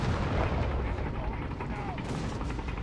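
Gunfire and artillery in the World War battle game Company of Heroes 3, with dense, distant-sounding battle noise and scattered bursts over a continuous rumble, fairly quiet overall.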